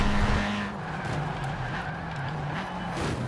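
A turbocharged front-wheel-drive Volkswagen Golf on BBS wheels racing in Forza Horizon 4, its engine droning at a steady high pitch with tire squeal layered over it, loud and continuous throughout.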